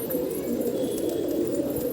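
Pet pigeons let out on a rooftop coo together in a thick, unbroken throaty drone, the many overlapping calls close and steady throughout.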